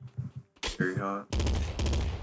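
Rapid video-game gunfire from Nuclear Throne, sharp bursts of shots arriving in clusters, mixed with other game effects and a brief spoken voice.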